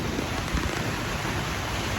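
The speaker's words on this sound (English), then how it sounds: "it's thundering and it's raining" Steady rain falls in a dense, even hiss, with a low thunder rumble underneath, continuous and close throughout with no voices.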